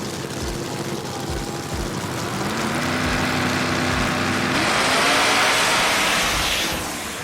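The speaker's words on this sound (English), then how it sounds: "looks like Lou Sir from Kitterman Speed Shop pulls the left lane again with the Chevette." A Chevette and a shiny gold Mustang launch down a drag strip side by side, engines roaring and building into a loud, broad rush, with a few low thumps early on.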